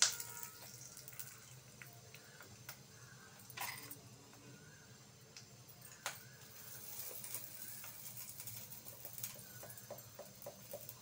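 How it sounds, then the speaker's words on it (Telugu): Tempering spices (mustard seeds, curry leaves, asafoetida, dried red chillies) fry in a little hot oil, a quiet steady sizzle with occasional sharp pops and crackles, heard alone without talk. "కొంచెం ఆయిల్ వేసి పోపు వేయించి తీసేస్తాను."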